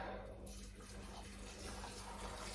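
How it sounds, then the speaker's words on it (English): Vegetable stock poured straight into a pot of carrot and lentil soup, a steady, close splashing flow of liquid that runs without pause. "I'm just going to pour the stock straight in."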